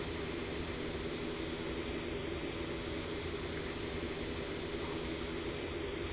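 Jet airliner engines in X-Plane 11, heard from a cabin seat near the engines. A steady, dense, even roar with a whining tone runs unbroken throughout, with no talking.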